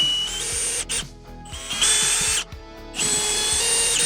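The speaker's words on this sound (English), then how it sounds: "I'm going to drill 3 small holes." A power drill boring small holes for a TV mount, whining loudly in three separate bursts with brief pauses between them.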